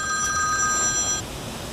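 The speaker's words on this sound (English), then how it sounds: "That's my alarm that lets me know when the stock market's opening." A phone alarm rings with bright repeating electronic tones for over a second, then cuts off, leaving faint room noise.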